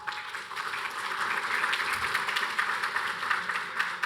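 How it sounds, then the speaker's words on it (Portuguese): Attendees at a rail transport panel session in São Paulo give a round of applause, a moderate, even patter of many hands that holds steady throughout without rising to a peak. "Uma salva de palmas, por gentileza."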